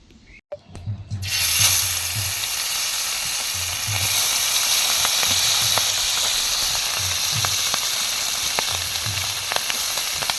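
Hot oil for frying fish hisses and sizzles loudly in a karahi, a bright constant crackle with scattered pops, starting abruptly and continuing without talk.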